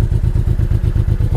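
Motorbike engine cranking on its electric starter button, a fast, even, loud rhythmic chugging with repeated thumps close by, and no voices.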